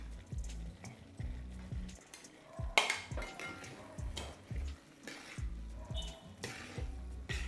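Sautéed onions are tipped into a pot of Onam koottucurry and stirred in, with spoon scrapes against the vessel and a sharp clatter partway through, amid soft kitchen clinks.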